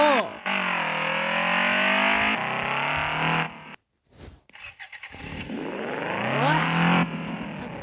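A Lada Granta engine in the driving game Real Oper City revs loudly with rising and falling pitch, cuts out abruptly, then restarts and climbs again. A person briefly exclaims partway through.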